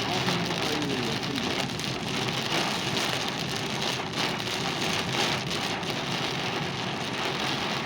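Steady rain drums on a Maruti Suzuki WagonR LXi during a drive, a dense continuous wash of drops on the car body that stays loud and even throughout, with no voices.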